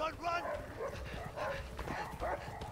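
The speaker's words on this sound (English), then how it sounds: "I hate dogs. Even in video games." In the video game A Way Out, a dog barks repeatedly in a fairly quick rhythm, quiet and somewhat distant, with some yips mixed in.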